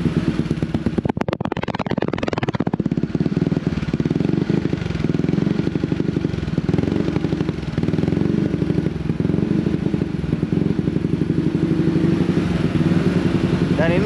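Exhaust of a bored-up Honda PCX 160 scooter engine, a loud close steady idle with a brief blip of revving near the start, running continuously throughout.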